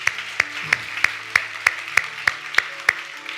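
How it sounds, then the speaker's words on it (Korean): A congregation at a Korean church service claps in thanks to God, heard as about a dozen sharp, evenly spaced claps in a steady rhythm over a low background hum. "우리 하나님 앞에 감사의 박수 올려드리고 하겠습니다"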